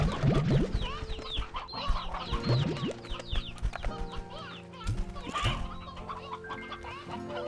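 In the video game Slime Rancher 2, chickens cluck and squawk repeatedly over a busy, layered background of farmyard noise, fairly loud and close, with several overlapping calls.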